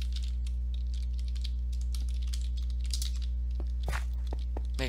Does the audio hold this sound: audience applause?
no